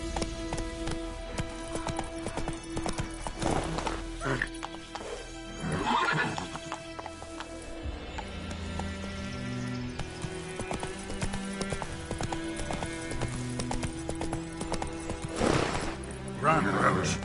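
In The Witcher 3, the horse Roach gallops with steady, rapid hoofbeats and gives loud neighs and whinnies now and then. Game sounds and other noises run underneath throughout.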